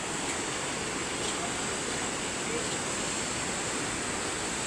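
Steady broadband rush of a waterfall heard near a hanging bridge, a continuous roaring wash of falling water with no breaks, fairly loud and close.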